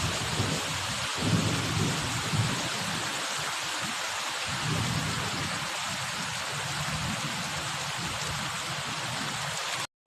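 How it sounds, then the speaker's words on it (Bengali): Heavy thunderstorm pouring down outside, a dense continuous roar of rain with deep rolling thunder swelling underneath, loud and steady for the whole stretch, with no voices. "প্রচুর জোরে ঝড় বৃষ্টি হচ্ছে, আর এত জোরে জোরে বাজ পড়ছে"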